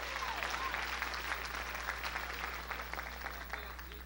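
Church congregation clapping during a 1985 Sunday evening service, a moderate, continuous patter of many hands under a low steady hum, with some voices underneath.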